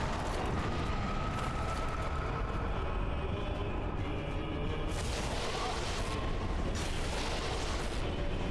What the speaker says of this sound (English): Oh, he's about to explode.